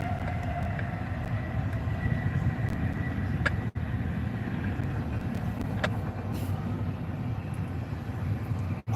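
CSX freight train with a Tier 4 DPU locomotive rolling past at close range, a continuous heavy rumble of wheels and cars with faint metallic squeals and clanks, no talk.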